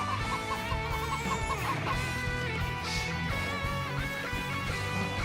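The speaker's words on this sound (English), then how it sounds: "Are those chickens oddly loud, by the way?" Chickens clucking loudly in the Age of Empires II: Definitive Edition strategy game, steady overlapping fowl calls mixed with game music and ambient sounds throughout.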